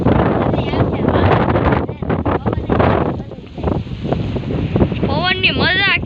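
Wind gusts outdoors on a rural farm, buffeting the microphone as a steady, loud rumbling roar that runs beneath someone talking throughout.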